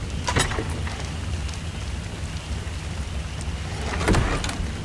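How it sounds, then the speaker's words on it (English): Rain in the survival game Ark: Survival Evolved, a steady broadband wash with a few brief louder crackles, like distant thunder or gusts, near the start and end, heard alone with no talking. "It started raining."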